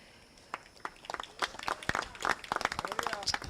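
Audience at a ceremony breaking into scattered clapping that starts sparse and quickly builds into irregular applause, heard moderately close.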